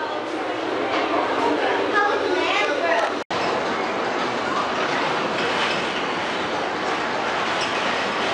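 A ride on the Whiskey River Railway, a small amusement-park train at Little Amerricka, giving a continuous rumbling, rattling roll with a brief cutoff midway, while people talk over it.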